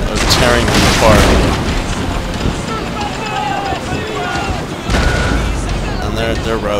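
Ship cannon fire in Empire: Total War, a naval battle against a Spanish-era fleet, sounding as dense overlapping booms and rumbling volleys throughout, with a heavier burst near the end, under steady commentary.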